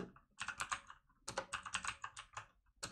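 Clicky, rapid keystrokes on a computer keyboard come in two quick bursts separated by a short pause, close and clear with no talking.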